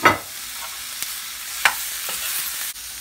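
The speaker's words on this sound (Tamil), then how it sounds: "இப்போ உருளைக்கிழங்க நல்லா எல்லா மசாலாலையும் படுற மாதிரி நல்லா வதக்கி விட்டுக்கோங்க" Boiled potatoes sautéed with masala in a pan for potato masala, a steady close sizzle broken by a few sharp scraping stirs near the start, middle and end.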